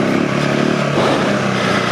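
The high-strung single-cylinder engine of a 2025 KTM 390 Enduro R revs loud and close during an off-road test, a steady buzzing drone with a short dip and rise in pitch partway through.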